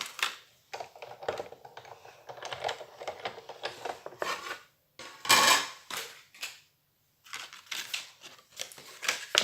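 A Big Shot die-cutting machine is cranked on a table while crafting a candle box, giving rough bursts of clicking and crunching with short pauses between passes, fairly quiet and close.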